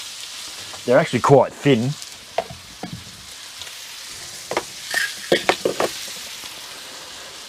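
T-bone steak frying in a pan gives a steady close sizzle throughout, with someone talking over the first couple of seconds and again near the end.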